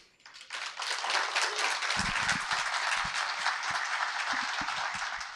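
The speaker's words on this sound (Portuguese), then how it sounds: "A plateia aplaude calorosamente o encerramento de Jorge." A seated audience at a Sempre um Papo talk by Jorge Coli breaks into warm, sustained applause that swells quickly and holds steady, a dense wash of many hands.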